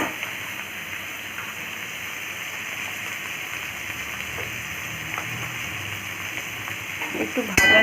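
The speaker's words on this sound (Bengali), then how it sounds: "একটু ভালো করে ভেজে নিতে হবে" Vegetables such as onion, green chilli, capsicum, carrot and potato frying in a pan, giving a steady, even sizzling hiss that runs throughout without a break.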